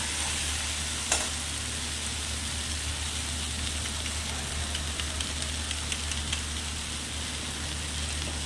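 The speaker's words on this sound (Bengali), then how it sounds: "জিরে গুঁড়ো দিয়ে আমি একটু ভালো করে কষিয়ে নিলাম" Potato and pumpkin sautéing with turmeric and cumin powder, a steady close sizzle with faint stirring scrapes and one brief knock near the start, continuous throughout with no talk.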